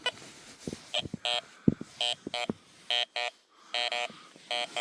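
Garrett Vortex VX9 metal detector sounding target tones over a silver hammered medieval coin during a winter field test: a string of short, bright electronic beeps, some single and some doubled, coming in irregular quick bursts close by.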